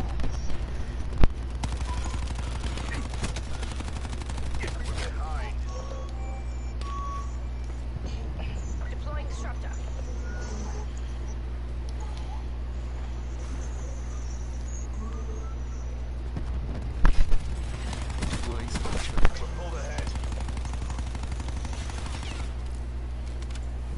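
Video game gunfire crackles as scattered shots and short bursts over steady engine-like background noise, with a few louder volleys near the end, while a person talks throughout.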